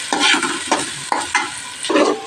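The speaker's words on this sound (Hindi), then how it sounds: "अब इन्हें थोड़ा सा कलर चेंज होने तक फ्राई कर लेते हैं" Whole spices fry for Sindhi biryani in a hot pan, a loud close sizzle cut by about four rhythmic scraping strokes of a spoon across the pan.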